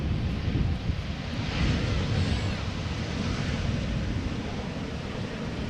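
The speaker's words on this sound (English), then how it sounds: "Here we have a German Airways Embraer 190 flying for KLM." Embraer 190 jet of German Airways operating for KLM at Amsterdam Schiphol Airport, a steady broadband roar of engines filling the whole stretch, with wind rumble buffeting the microphone outdoors.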